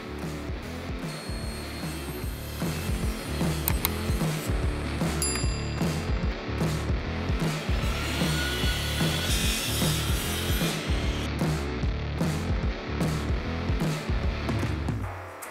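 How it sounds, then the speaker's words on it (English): A saw cuts dados in a wooden desk panel, giving a continuous rasping cut with repeated rhythmic strokes, close and fairly loud for the whole stretch, with no talking. "Then I can remove the spacer and cut the dados on the bottom panel"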